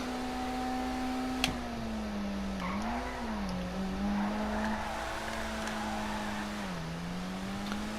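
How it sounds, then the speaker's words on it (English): A Vapid Retinue MK2 in GTA Online races along with a steady engine whine whose pitch dips and climbs as the tires lose traction, a faint squeal in places, moderately loud and without talk. "Little bit of a traction loss there."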